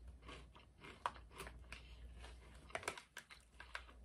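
Close, quiet crunching and chewing of an UTZ potato chip, a thin classic plain chip, with scattered crisp bites and crackles over a low steady hum.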